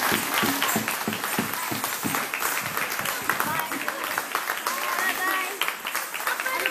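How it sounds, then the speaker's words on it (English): A crowd claps steadily and fairly close after a dance school's performance at a Navaratri program, with voices mixed into the applause. "who definitely deserve a big round of applause from everyone"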